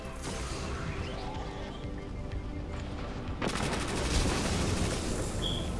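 Gunfire during an Iron Banner match in Destiny 2, a steady muffled stream of shots that suddenly sharpens into a loud, crackling rapid-fire burst partway through and keeps going to the end.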